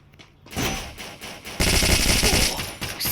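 Rapid automatic gunfire from the Free Fire video game, loud bursts starting about half a second in and firing almost continuously, with a brief dip before a denser, heavier volley that runs to the end.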